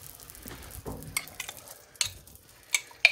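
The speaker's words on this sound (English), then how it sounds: "Oh, you can hear that sizzle." Soft crackling sizzle of pizza sauce in a hot pan, with a few sharper ticks and scraping sounds near the end, fairly close and quiet.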